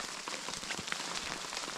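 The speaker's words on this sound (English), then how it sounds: "it started raining / kind of hailing" Rain mixed with light hail falls on backpack bag covers at a lake in the Pecos Wilderness, making a dense, even patter of close drops with no voices.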